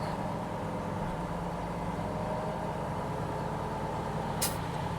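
A dump truck idles steadily with a low engine drone as its bed raises on hydraulics during road building in the woods, a brief hiss near the end, no talk.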